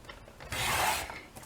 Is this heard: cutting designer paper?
yes